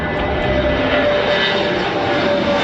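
A passenger airplane's engines drone steadily during a flight, a broad, even roar heard from inside the cabin with no voices over it.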